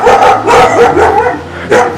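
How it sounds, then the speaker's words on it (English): A dog barks repeatedly in an old village street near a stone church, with loud, close woofs in an uneven rhythm across the whole stretch. "dog's barking at me."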